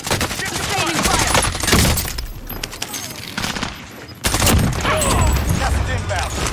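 Bursts of automatic rifle fire in Call of Duty Warzone Rebirth, loud rapid volleys that dip briefly mid-clip then resume, with game radio voice callouts heard over the shooting.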